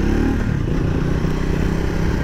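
A Triumph Speed 400 motorcycle riding over potholes, its engine droning loudly and steadily with wind rumble and clattering bumps underneath.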